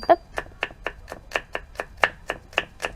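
A knife chops onions very fast on a board, with about a dozen crisp, evenly spaced strokes in a steady quick rhythm, close and clear with nothing else over them.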